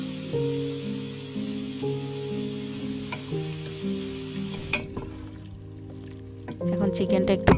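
Chicken and vegetables sizzle in a pan while a utensil stirs them, with scraping and frying crackle close up over steady background music.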